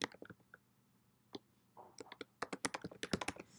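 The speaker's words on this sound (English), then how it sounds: "So you just click the email box and just type in who you want to" An email address is typed on a computer keyboard: scattered close key clicks at first, then a quick run of crisp taps speeding up, with no talk.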